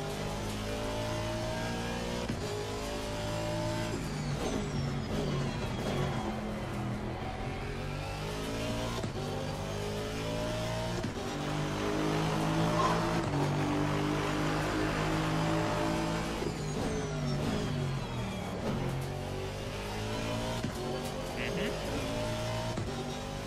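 A racing Aston Martin V8 Vantage engine in Assetto Corsa Competizione snarls steadily up and down through the gears, loud and close, with revving, brief tire squeal and a passing car woven in.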